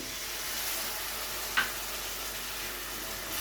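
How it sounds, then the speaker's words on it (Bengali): Tomato paste fries in a pan of spicy chicken masala as it is stirred, a soft steady sizzle with a single faint clink of the spoon near the middle. "টমেটো পেস্টটা দিয়ে খুব ভালো করে নাড়াচাড়া করে কষিয়ে নেব"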